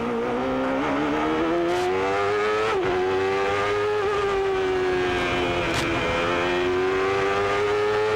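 A 1993 IndyCar race car at Laguna Seca during the Toyota Grand Prix of Monterey, running downhill in fifth gear: a loud, close, continuous engine howl whose pitch sags and climbs slightly, with nothing else over it.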